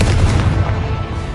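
A loud, sustained blast from the Confringo fire spell in Hogwarts Legacy, a dense booming roar that holds steady for over a second with no gaps.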